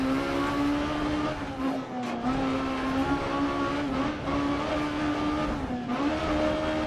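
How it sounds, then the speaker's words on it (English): Rally car from the Dirt Rally game driving a Finland stage with a suspected flat rear tire, a steady loud engine drone with a constant low hum and brief dips, heard alone without talk. "Really sounds in the headphones like I got a flat tire"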